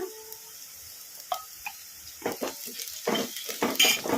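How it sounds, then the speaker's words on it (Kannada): Crushed garlic goes into sliced onions already fried light brown in a pan for a simple onion curry, bringing a close sizzle with stirring scrapes and clinks that grow louder and busier toward the end. "ಈಗ ಇದಕ್ಕೆ ನಾವು ಜಜ್ಜಿ ಇಟ್ಕೊಂಡಿದ್ವಲ್ಲ ಬೆಳ್ಳುಳ್ಳಿ ಈಗ ಇದನ್ನು ಹಾಕೋಣ"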